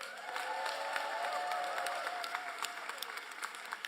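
A crowd applauds a councilman at a mayoral reelection campaign announcement in Baltimore, with dense clapping and some cheering heard at a distance, fairly faint and sustained, then thinning into scattered claps.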